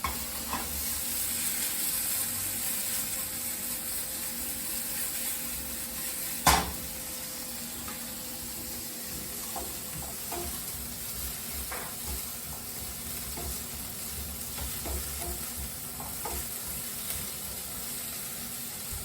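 Green beans frying in butter in a pan give off a steady, quiet sizzle, with one brief clink or scrape partway through.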